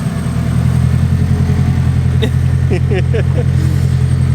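A Honda Civic Si with a K20R engine runs at a steady low idle, a smooth continuous hum near the microphone, while voices chat over it partway through.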